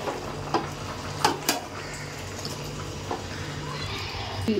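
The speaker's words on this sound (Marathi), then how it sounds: "आणि पुन्हा एकदा हे छान आपण मिक्स करून घेऊया" Spiced Aagri chicken with garam masala is stirred in a pan, with scattered clinks and scrapes over a low background sizzle, close by and moderately loud.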